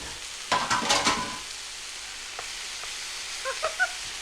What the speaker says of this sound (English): I'm just adding some tomatoes.